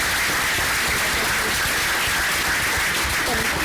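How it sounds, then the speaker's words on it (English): A room gives a round of applause to junior high students being congratulated at a school board meeting; continuous, dense clapping holds at a steady level throughout. "If you can give them a round of applause."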